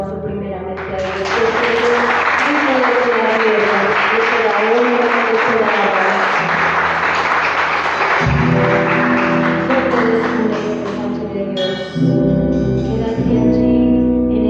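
Congregational applause at an evangelical church service, a dense, steady wash of clapping that carries on throughout alongside sustained worship music and singing.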